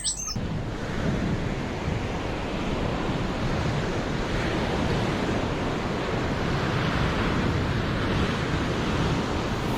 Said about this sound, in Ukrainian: А це шум моря.